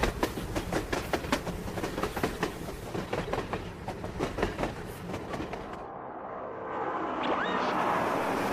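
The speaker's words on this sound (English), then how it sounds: "Train." A train passes with rapid rhythmic clickety-clack of wheels over rail joints, loud and close, then fades into a rising rumble and wheel squeal as it moves on.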